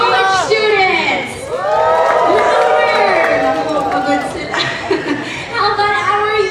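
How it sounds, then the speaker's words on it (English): Crowd of senior high school students at a youth summit cheering and shouting in a big hall, a loud wave of whoops and screams rising and falling over several seconds. "Can we hear senior high students please cheer?"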